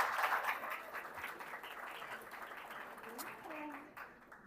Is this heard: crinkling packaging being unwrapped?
no